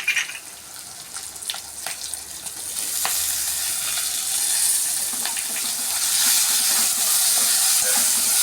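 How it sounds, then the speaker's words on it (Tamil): Onions sautéing with curry leaves in a pan for aval upma, a steady hiss that swells and grows louder partway through, with faint clinks of stirring and no voices. "வெங்காயம் கொஞ்சம் நேரம் வதங்கணும்"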